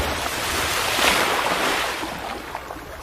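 A river rushes past in a steady, broad roar of moving water, loud and close, with gusts of wind mixed in and no voices.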